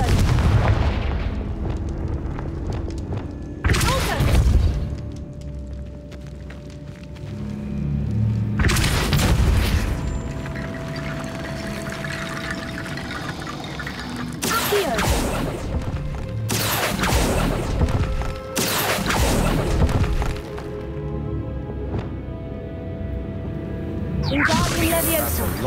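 Confringo spell blasts in the video game Hogwarts Legacy, several heavy booming explosions spread across the span with rumbling, crackling debris between them and speech at times.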